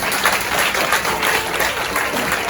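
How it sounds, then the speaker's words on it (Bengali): Applause at a meeting, a sustained burst of many hands clapping together at steady loudness, filling the room with no voices standing out. "এদের জন্য দারুণভাবে একটা হাততালি হওয়া উচিত আমরা বলছি।"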